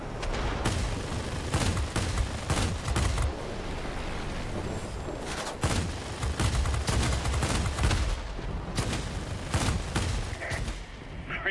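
Dense aircraft machine-gun fire from a World of Warplanes dogfight, loud, sustained bursts with booming impacts throughout, no speech.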